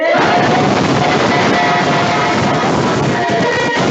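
A small crowd in a studio cheers and hollers loudly, a dense burst of whoops and shouting voices close to the microphone that carries on steadily throughout.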